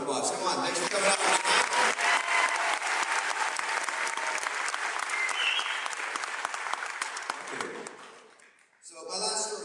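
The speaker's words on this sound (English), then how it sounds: "give yourselves a round of applause" A comedy club audience claps in a dense, sustained burst of applause that stays loud for several seconds, then thins and fades out near the end as the room settles.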